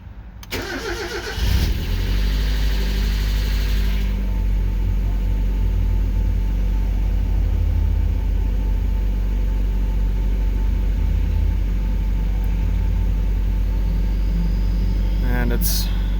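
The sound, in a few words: 1996 Mazda Miata engine idling high on cold start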